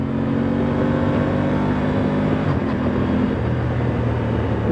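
A 2025 Aprilia Tuono 660 Factory motorcycle engine revs up and settles, a close, loud engine drone with rising and falling pitch and no voices over it.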